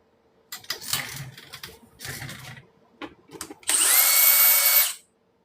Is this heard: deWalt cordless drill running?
yes